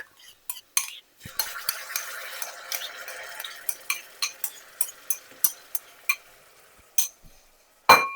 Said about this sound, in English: Now it's time to add our ginger and garlic in.